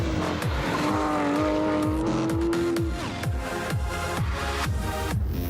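Porsche 911 GT3 sports car lapping a racetrack, its loud engine note climbing and dropping through repeated gear changes, with rising revs and tire noise close by throughout.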